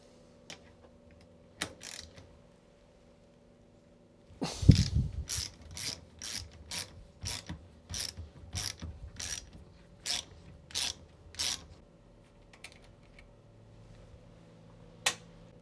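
A ratchet tool clicks in a quick, even run of about a dozen sharp close strokes while a nut is removed from the compression stack of a WP rear shock, with a few isolated clicks before and after.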